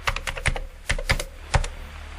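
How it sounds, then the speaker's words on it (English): Quick, clattering keyboard typing, a burst of sharp key clicks in an uneven rhythm, close and fairly loud with no talking. "That's Niall tweeting with the giant keyboard."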